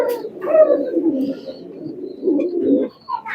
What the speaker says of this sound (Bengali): এই যে মেহনাজি সাহেবের সালেরা কবুতর, চমৎকার একটা কবুতর